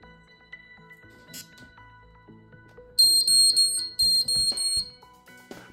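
An UpLock Evolution security safe's alarm sounds in loud, shrill electronic beeping, one sustained burst and then a second broken into quick repeated pulses, close by with no talking.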